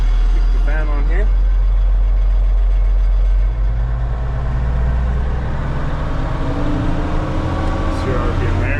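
A tractor engine running steadily at 2,000 RPM during spring seeding with the fan on, a loud continuous droning hum that holds throughout, with no clear talk over it.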